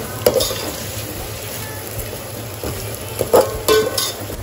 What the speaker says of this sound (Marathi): मिक्स करून घेऊया, कालवून घेऊ मस्तपैकी.